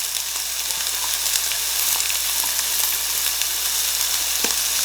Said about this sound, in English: we are seriously cooking up some meat up in here